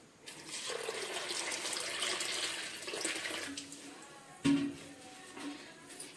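Water pours steadily over washed sago pearls in a kitchen vessel, a soft continuous splashing stream with a brief clink partway through, fairly quiet and without talk.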